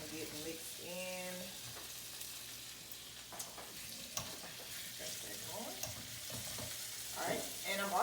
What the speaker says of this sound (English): So I'm gonna get our asparagus going and get it nice and sauteed in here